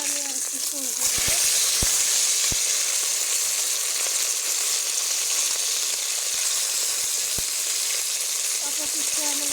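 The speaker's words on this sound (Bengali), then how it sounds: "অপর পিষ্টে আমি লাল লাল করে ভেজে নেব।" Tilapia fish sizzles in hot oil in a pan, a loud dense hiss running steadily throughout, broken by scattered pops and light scraping as the fillets are turned.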